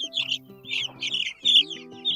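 Chickens on a farm, kept among meat birds, give soft clucks and chirpy calls in several short close bursts, with small pauses between them.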